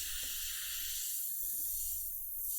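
An airbrush sprays paint onto a Thanos figure with a steady, soft, close hiss of air that holds evenly throughout and has no talking over it.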